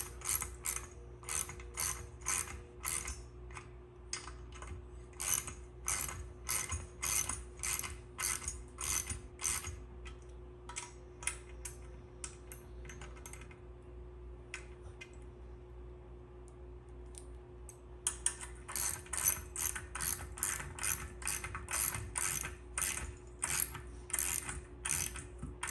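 Hand ratchet snugging the mounting bolts of a motorcycle headlight kit: rapid metallic pawl clicking in repeated back-and-forth strokes, close and steady, pausing briefly midway before resuming, with no speech.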